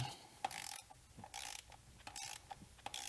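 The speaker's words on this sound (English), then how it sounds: "The ratchet doesn't even want to work." Ratchet clicking while loosening or tightening valve cover bolts on an E46 BMW 330i, fitted with a cheap metal valve cover; bursts of close mechanical clicking in short repeated strokes with brief pauses, no talking.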